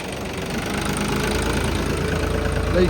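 A tractor engine, apparently a 3630 model on a farm by a straw-making machine, runs steadily nearby with a low knocking diesel rumble and constant vibration, no voices over it.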